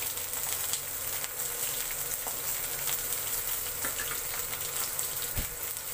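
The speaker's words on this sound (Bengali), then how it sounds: "এটা ভাজা হতে থাক।" Green chilies and onion frying in a pan give a steady, dense sizzle and crackle that holds evenly throughout, close and fairly loud, with no voices.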